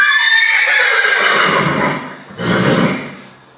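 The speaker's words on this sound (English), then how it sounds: "I wish the horses would be quiet." Horses neigh nearby, a long loud whinny that falls away, then a second shorter whinny after a brief pause, with no talk.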